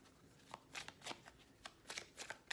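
Rebel Oracle cards shuffled close up, quiet irregular riffling and flicking of the deck in short bursts, no talking.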